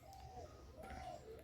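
A male Madrasi pigeon in a Howrah loft gives soft, drawn-out cooing phrases, two rolling calls heard close over a steady low background rumble.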